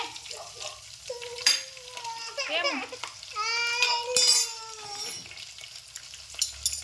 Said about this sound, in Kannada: ಶುಂಠಿ ಬೆಳ್ಳುಳ್ಳಿ ಎಲ್ಲ ಒಂದು ಸ್ವಲ್ಪ ಫ್ರೈ ಆಗ್ತದೆ